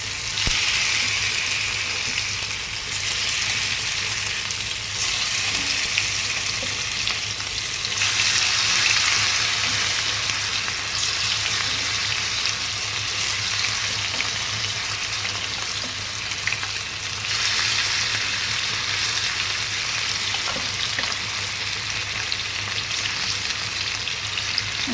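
Another batch of food is frying in hot oil in a home kitchen, giving a loud, continuous close sizzle and crackle that holds steady throughout with slight swells and no speech.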